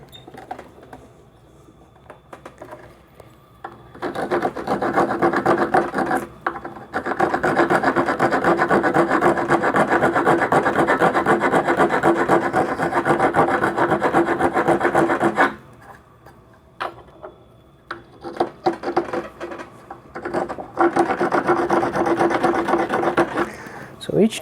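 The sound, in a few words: WoodRiver riffler rasp filing wood end grain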